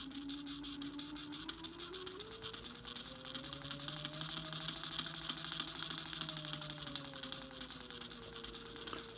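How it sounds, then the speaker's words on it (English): Watson Marlow peristaltic pump driven by a stepper motor through a Panther controller, turning at about 25 RPM, gives a steady mechanical whine whose pitch drifts up and down over a constant buzzing hum, close and continuous. "and the pump is running"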